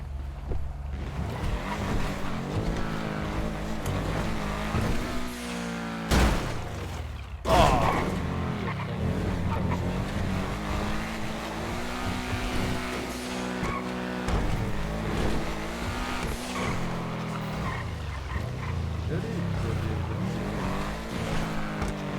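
Car in the FiveM game revving and skidding, engine tone rising and falling with tire squeals throughout, one sharp impact around the middle, loud and continuous.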